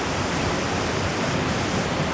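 A creek near a waterfall rushes in a steady, loud broadband roar, unbroken and without voices.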